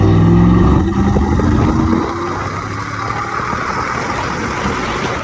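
A 2001 Chevrolet Silverado with a Volant cold air intake runs with a loud, steady engine drone and intake rumble that eases to a lower, even hum partway through, with no talking.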